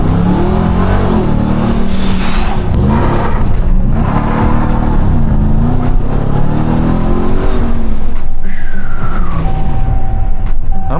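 A RAM TRX pickup truck with a 702-horsepower engine launches in launch mode, its loud engine roar rising and falling in waves with revving surges throughout, a steady tone creeping in near the end.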